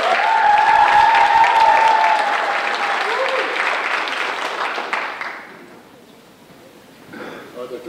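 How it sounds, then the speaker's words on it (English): Applause rises from an audience at a civics bee, loud clapping for about five seconds that fades away, with some talking mixed in. "A round of applause,"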